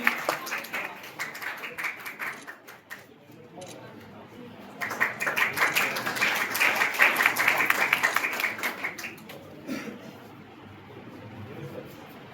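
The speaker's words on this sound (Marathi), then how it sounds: "आपण सर्वांनी या ठिकाणी टाळ्या वाजवायच्या आहेत" An audience at a college annual prize-giving ceremony breaks into applause, the clapping swelling and fading in bursts with voices audible around it.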